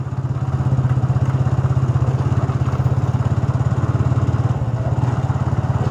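A motorcycle engine throbs close by on an off-road track in a fast, even put-put rhythm, loud and steady throughout with no talking.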